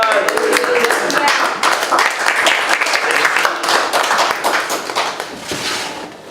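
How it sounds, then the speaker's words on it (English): A startup meetup crowd gives a loud, close round of applause, dense clapping that holds steady for several seconds before easing slightly at the end, with a voice faintly mixed in. "give him a round of applause"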